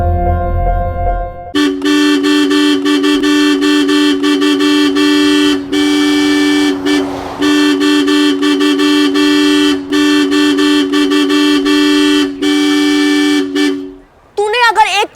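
A car horn blares in long, loud, sustained honks that run almost continuously for over ten seconds, broken by brief gaps, before cutting off abruptly.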